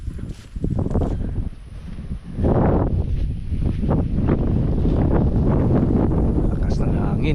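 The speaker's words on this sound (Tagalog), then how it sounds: "Lakas ng hangin." Strong wind buffets the microphone in heavy gusts on the summit of Mt. Naupa, Naga City, Cebu, a roaring rumble that swells and stays loud while a person speaks underneath.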